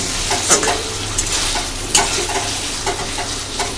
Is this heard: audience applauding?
no